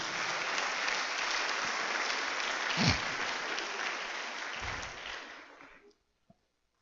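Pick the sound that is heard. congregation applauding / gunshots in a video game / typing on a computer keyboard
congregation applauding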